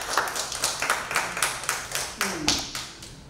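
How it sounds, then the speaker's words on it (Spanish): Sparse, rhythmic clapping from a small audience at a film premiere for Dominican Detective, individual claps spaced evenly and fairly close, with a brief voice partway through. "Yo pido para él un fuerte aplauso"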